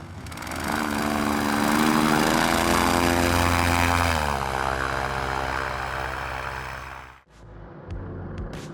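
A homemade airboat built from an inflatable boat runs its propeller engine with a loud, droning roar like a light airplane. The pitch drops partway through, and the engine then cuts out abruptly near the end.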